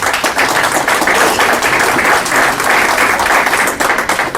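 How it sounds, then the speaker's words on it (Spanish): Strong, sustained applause from an audience at a Mexican political event on defending Pemex, a loud dense wash of many hands clapping continuously and close. "les pido un fuerte aplauso para ella."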